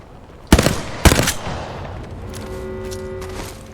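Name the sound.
gunfire in the video game Apex Legends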